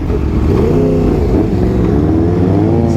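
A Yamaha R1 superbike revs loudly and close by, its engine note climbing and falling in steady harmonic sweeps, with the rumble of another motorcycle underneath.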